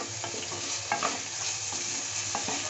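Potatoes are lightly stir-fried in a pan, with a close, steady sizzle broken by scraping and clinking stirs of a utensil at irregular intervals, and no voices.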